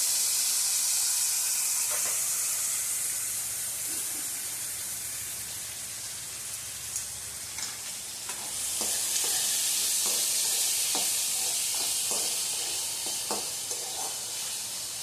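Chopped tomatoes sizzle and fry in hot spiced oil in a pan, with a steady hiss and repeated scraping and clinking as a spoon stirs them, close up.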